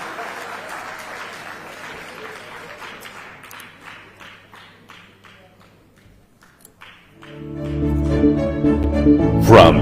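Scattered applause from a summit audience, moderate and diffuse, fading and thinning out before a loud burst of music with a voice over it takes over near the end.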